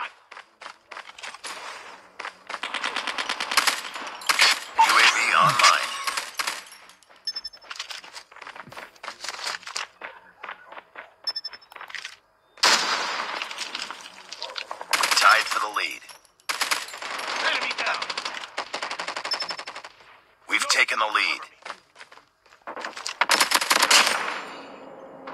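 Bursts of automatic gunfire in Call of Duty Mobile come in several loud, rapid-fire volleys separated by brief quieter gaps, each burst a dense mechanical rattle.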